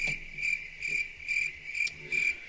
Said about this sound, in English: Yes, crickets for this Thursday night game.